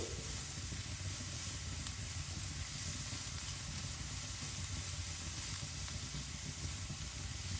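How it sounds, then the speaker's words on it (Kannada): Finely chopped onions frying in oil for a fish and okra gravy, a steady, even hiss of sizzling that runs unbroken and fairly quiet, with no voices. "ನೋಡಿ, ಈ ರೀತಿ ಫ್ರೈ ಆಗಲಿ."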